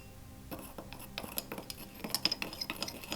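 Black copper oxide is mixed with water for a ceramic glaze, giving close scraping, stirring and light clinks of a tool against a container, irregular and fairly quiet.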